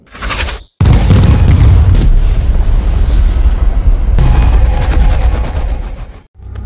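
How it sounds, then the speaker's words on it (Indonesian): A Hellfire missile strike in an action war film about special forces: a brief lead-in, a sudden gap, then a loud, sustained booming explosion that roars and rumbles for several seconds before cutting off. "Reaper menembakkan misil Hellfire dan... Boom!"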